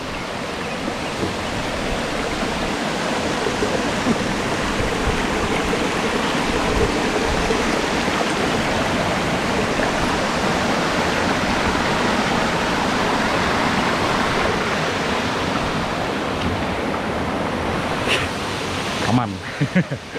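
Rushing water from the Gitgit waterfall and its river in Bali pours as a steady, loud broadband roar for the whole stretch, with a brief disturbance near the end.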